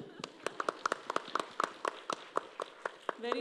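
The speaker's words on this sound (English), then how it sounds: "your round of applause, please" An audience at an HR technology panel discussion in India claps in quick, scattered bursts, fairly quiet and thin, with a short burst of other noise at the very end.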